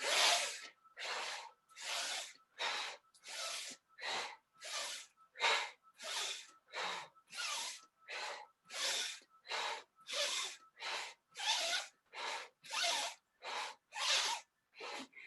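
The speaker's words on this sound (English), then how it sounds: "Exhale, down, inhale." Deep breathwork breathing, about twenty strong, evenly spaced rushes of breath, each a loud close airy whoosh with short silent gaps between them, steady and rhythmic with no talking.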